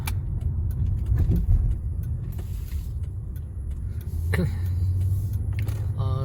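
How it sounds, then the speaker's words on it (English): A car eases into a home garage on an icy Austin, Texas driveway after an ice storm, its engine giving a close, low rumble with a few clicks and knocks and a brief rise in revs near the end. "I'm going to try to park the car in the garage"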